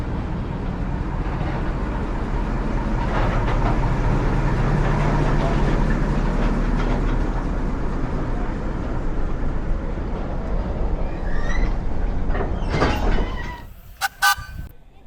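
Train running on the short track of the Colne Valley heritage railway, which carries steam and diesel engines: a loud, steady rumbling roll with rail clatter builds and fades, then sharp squeals and clanks close out the pass.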